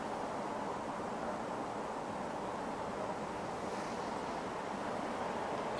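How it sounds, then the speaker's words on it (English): Strong wind blows outdoors near the ocean with a steady, unbroken roar, like buffeting microphone noise, and no voices. "Hiding out here in the trees because it's really, really windy out here."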